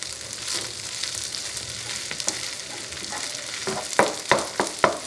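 Leftover rice fries over a medium flame in a pan for ground turkey fried rice, a steady soft sizzle broken near the end by several sharp scraping knocks as a utensil chops through it.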